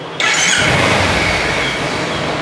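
A Kawasaki Ninja 300 motorcycle engine revving loudly at idle during servicing, a steady, close roar that begins abruptly and holds with a slight fade, no voices.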